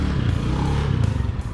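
A Yamaha Aerox scooter ridden with no exhaust muffler gives a loud, raw, rasping engine drone with a pulsing rhythm, heard up close while moving along.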